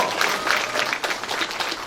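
Audience applause at a Democratic Party members' education event in Incheon Seo-gu, a steady dense wash of many hands clapping at moderate loudness, continuous for about two seconds.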